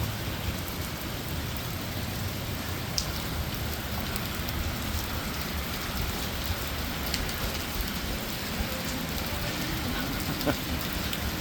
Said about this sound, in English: It's absolutely bouncing it down.